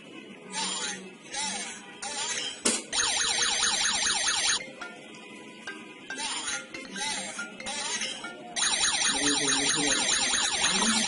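A DMA smart home system alarm sounds loudly and continuously in a room, a shrill repeating electronic tone with brief pauses and a sharp clink, while a person talks over it.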